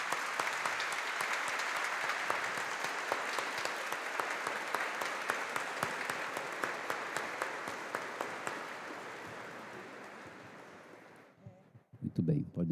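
A church congregation claps at length during a Pentecost Sunday Mass, a dense, steady applause that gradually thins and fades out near the end.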